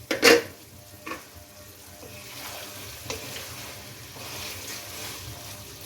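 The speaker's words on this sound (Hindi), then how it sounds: "अब इसे लो फ्लेम पर कुक होने के लिए रख दें" Mixed vegetable curry with potatoes and a little added water simmers in a pot on a low flame, giving a faint, steady sizzle, with a sharp utensil clink at the start and a few soft stirring knocks.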